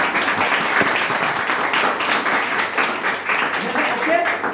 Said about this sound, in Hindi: ताली बज दीजिए जबरदस्त